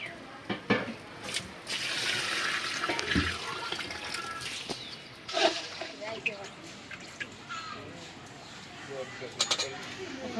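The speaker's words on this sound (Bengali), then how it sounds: "এখন পানি দিয়ে দিই" Water poured into a cooking pot of sautéed vegetables, rice and lentils for homemade khichuri, a fairly steady splashing stream with a few clinks of pots and utensils, in a home kitchen.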